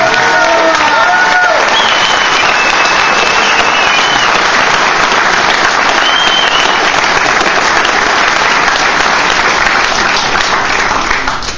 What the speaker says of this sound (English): thank you very much for your applause